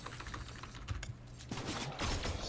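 Rapid clicking of computer keyboard keys during video game play, with bursts of keystrokes that grow denser and louder toward the end, close by and with no talking.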